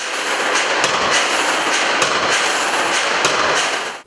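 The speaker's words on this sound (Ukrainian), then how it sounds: "За допомогою спеціального приладу молоту працівники ущільнюють структуру металу." A power hammer with a three-ton striking force compacts metal in a forge shop. Its regular heavy blows land over a constant loud industrial roar.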